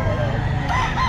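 A rooster crows over the busy bustle of a Sunday pet market, with the call carried in steady harmonic bands across about a second amid crowd noise.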